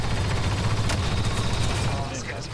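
Gunfire from a multiplayer shooter match, a dense, continuous stream of shots with no clear gaps across the whole stretch, loud and close, with a low rumble underneath.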